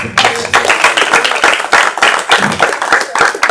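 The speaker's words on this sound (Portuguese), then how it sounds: "Um aplauso novo" A church congregation claps during a sermon, a loud, close, uneven burst of hand claps with a pulsing rhythm as individual claps stand out, continuing throughout without speech.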